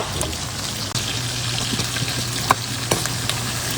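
Garlic, onion and ginger sautéing in a pan as the base for bulalo, a steady crackling fry with occasional stirring clicks and light scrapes, close and continuous.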